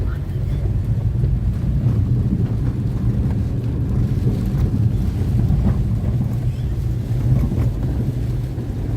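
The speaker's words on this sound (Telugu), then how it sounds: "అక్కడ ఆ చెట్లు గాలి కూగుతున్నాయి" Cyclone Nivar winds tear through trees around Ongole town in a constant low, heavy roar, with gusty buffeting against the microphone and no break in the blustery noise.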